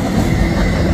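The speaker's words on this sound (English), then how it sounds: "stack train, mega stack." An eastbound mega stack freight train rolls past at close range near Evansville, Kansas, a loud, steady rumble of rail cars with a high wheel squeal running through it.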